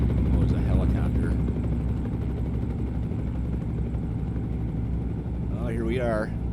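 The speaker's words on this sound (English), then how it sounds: "Oh, it's a helicopter." A helicopter in the trucking game American Truck Simulator, heard near the Iowa 80 truck stop, gives a steady rotor and engine drone over constant truck engine rumble, while someone talks briefly.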